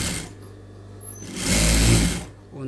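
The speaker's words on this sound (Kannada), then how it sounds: "ಒಂದು ಸ್ಟಿಚ್ ಅನ್ನೋದು ಹಾಕ್ಕೊಬಿಡಿ." A sewing machine stitches blouse lining in a close, loud mechanical whir that runs steadily, pauses, then picks up again with a heavier rhythmic hum before slowing.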